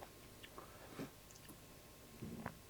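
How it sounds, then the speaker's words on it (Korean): Bites into a crunchy fruit tart crust with a cream filling, a few soft crisp crunches and chewing sounds spaced across a short, quiet stretch with no talking. "이 크러스트 부분은 진짜 바삭한데 속 안에 생크림이 엄청 달면서 부드러워요"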